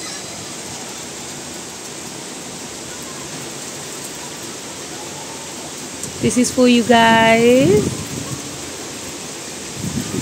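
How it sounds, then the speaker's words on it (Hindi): Continuous heavy rain after three days of nonstop downpour, a steady dense hiss throughout, with a voice speaking briefly over it near the end. "3 दिन से कंटिन्यूसली बारिश हो रही है।"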